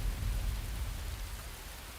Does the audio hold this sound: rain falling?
yes